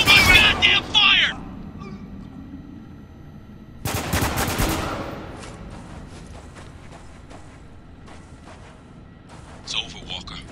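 Spec Ops: The Line firefight: a loud burst of automatic gunfire, another heavy volley and blast, then scattered distant shots and rattling bursts continue under shouted talk.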